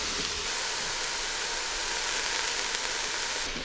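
Leeks, garlic, onion and ginger sizzling in the pot of an Instant Pot on sauté, a steady, close, broadband frying hiss that runs unbroken with no talk.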